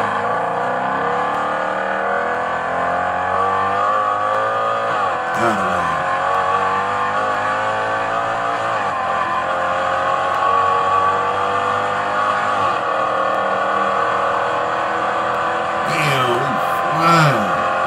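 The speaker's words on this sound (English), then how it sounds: "Here's a Mercedes-Benz C63 AMG that runs from his cop car." A Mercedes-Benz C63 AMG accelerates away from a police car, its loud engine note climbing and shifting through gears in a long continuous pull, with a voice talking over it.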